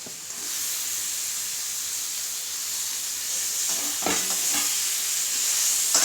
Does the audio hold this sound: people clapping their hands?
no